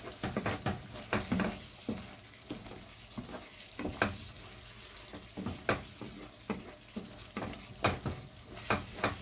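Chilli con carne simmering in a pan is stirred in repeated scraping strokes, each one a short swishing burst over a steady low sizzle, close and alone with no talk.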